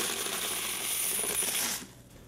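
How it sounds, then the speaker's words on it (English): A cash counting machine tallies stacks of temple fortune money, giving a dense, steady whirring rustle of bills flicking through with a thin high whine, close and loud, which stops abruptly near the end. "As cash counting machines take over the duty of tallying bills, the sound they make is music to the ears."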